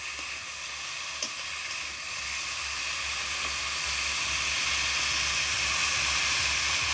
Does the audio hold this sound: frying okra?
yes